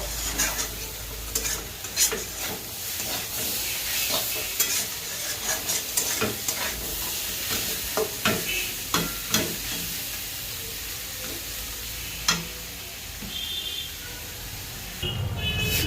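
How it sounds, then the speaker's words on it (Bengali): Cabbage and potato frying in a pan while being slowly stirred, a steady close sizzle with repeated scraping clicks from the spatula throughout and no voices. "এইভাবে আমি আস্তে আস্তে করে নেড়ে চেড়ে ভাজা করতে থাকবো"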